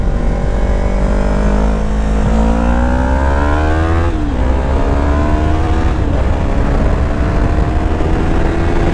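A Yamaha R3 motorcycle engine revs high and climbs through several gears, pitch rising then dropping at each shift, loud and steady throughout.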